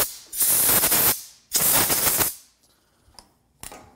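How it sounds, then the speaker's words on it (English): Scraping and digging dirt out of an old, rusty metal object, heard as two loud, harsh grinding bursts of about a second each, then a few faint scrapes and a brief closing rasp. "dig the dirt out of here"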